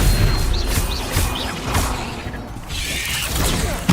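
A magic spell crackles and booms in the video game Hogwarts Legacy, making loud, dense combat effects with repeated whooshing bursts and a final impact.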